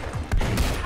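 Rapid gunfire bursts from the Roblox Giant Survival game, close and fairly loud, a quick volley of sharp shots in under a second.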